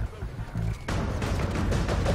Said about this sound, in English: When I fire my gun